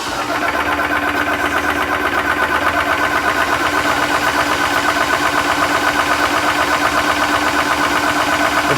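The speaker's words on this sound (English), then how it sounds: "The compressor on." Kong Lil' Foot PCP air compressor running, a loud steady mechanical drone with a fast rhythmic knocking pulse throughout, close and uninterrupted, no voices.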